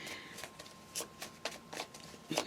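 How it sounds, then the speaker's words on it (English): Tarot cards are shuffled repeatedly during a reading, producing soft, crisp riffling bursts in an irregular rhythm, close but quiet, with no talking over them. "Why are you still shuffling them cards?"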